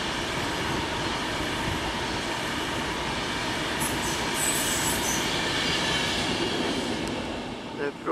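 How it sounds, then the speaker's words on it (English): A class 390 Pendolino electric train approaching at South Hampstead, a steady rolling rumble of wheels on rail with brief high squeals partway through, close and continuous. "Approaching us is a Pendolino"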